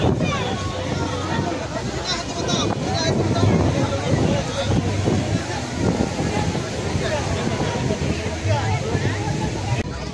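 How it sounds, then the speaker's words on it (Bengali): Strong sea waves at New Digha beach: a loud, continuous roar of surf and wind buffeting the microphone, with a voice talking over the crashing water. "জলের ঢেউটা কিন্তু প্রচণ্ড পরিমাণে রয়েছে"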